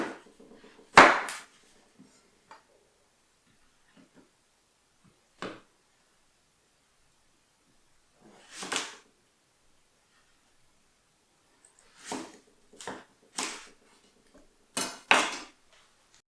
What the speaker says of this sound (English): now I'm going to be cutting the apple in half and in half again